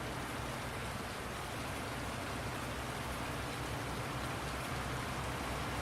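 Steady, dense rain hiss in the Farming Simulator 19 farming game, an even wash of falling water with no breaks or other sounds.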